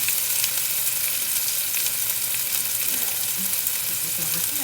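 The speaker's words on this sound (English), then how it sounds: "You can hear it sizzling." Tenderloin with herbs and onion sizzling in a hot cast iron pan, a steady bright crackling fry close by with faint background clatter.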